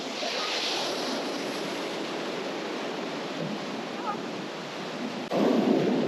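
Strong wind buffets a microphone on the Western Australian coast, a steady broadband roar with surf mixed in, growing gustier and louder near the end.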